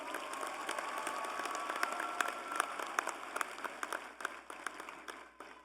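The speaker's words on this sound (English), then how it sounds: "Let's give them all one more round of applause." Audience applause fills a college commencement ceremony, a steady wash of many hands clapping at moderate volume that gradually thins out toward the end.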